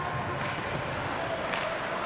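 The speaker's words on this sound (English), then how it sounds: "you can hear the cheer from the Eastview faithful" Eastview fans cheer at a high school boys hockey quarterfinal, a broad, fairly faint crowd roar that swells briefly and stays distant under the arena ambience.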